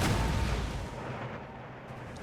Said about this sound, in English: I'll order the artillery to blast the British cannons.